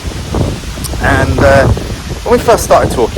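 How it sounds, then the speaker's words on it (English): Gusty wind buffets the microphone, a low rumbling roar running steadily beneath a person talking close by. "Wow, really windy."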